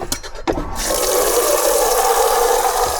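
After a couple of brief knocks, water rushes steadily into a campervan water tank, a loud continuous gushing that holds even for several seconds.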